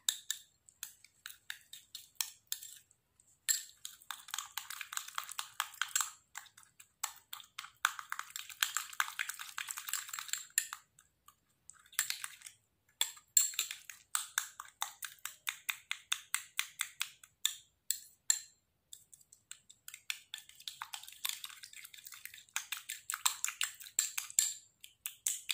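Aloe vera gel and baking soda being stirred in a small container, producing a long run of quick, crisp scraping and tapping strokes in repeated bursts with brief pauses, close and fairly loud with no voices.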